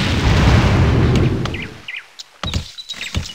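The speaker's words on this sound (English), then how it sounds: "Full broadside! Full broadside!" Rumbling broadside cannon fire from sailing ships in Anno 1602, a dense roar that dies away into scattered pops and short chirp-like game sounds.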